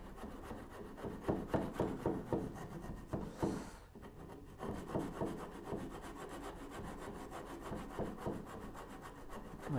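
Hand saw cutting stop dovetails in wood for a Moxon vise, steady back-and-forth rasping strokes close up, with a brief pause midway before the rhythmic sawing resumes.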